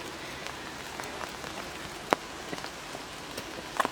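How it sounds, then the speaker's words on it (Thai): Light rain falls outdoors near the Beatushöhlen caves in Switzerland, with faint, scattered drops tapping on surfaces and a few sharper, closer hits over a soft, steady hiss. "ฝนก็ตกปลอยๆนะฝนตกปลอยๆ"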